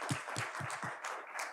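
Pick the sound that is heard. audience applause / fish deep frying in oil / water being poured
audience applause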